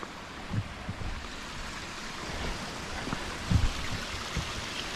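A waterfall tumbles down moorland crags, producing a steady, broad rushing wash of water heard from nearby, with faint gusts of wind and small splashes mixed into the continuous roar.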